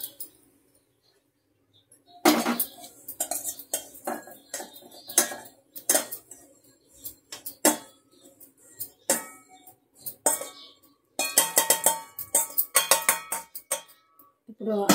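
Roasted poha is moved from the pan into a bowl. After about two seconds of near silence come a run of sharp metallic clinks and scrapes as a spoon knocks against the vessels, close and irregular.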